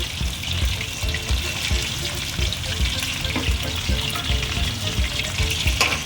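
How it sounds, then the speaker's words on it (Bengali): Pieces of bhetki fish shallow-frying in hot oil in a home kitchen, giving a steady, close crackling sizzle with small pops throughout and no talking. "মাছগুলোকে একটু হালকাই ভাজলাম বেশি কড়কড়ে করে না"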